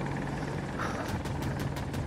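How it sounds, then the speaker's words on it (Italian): A military helicopter in Battlefield 2042 gameplay gives a steady, loud rotor and engine drone with rhythmic blade chopping throughout, close by and continuous. "Elicottero, elicottero, Leo, aiutaci!"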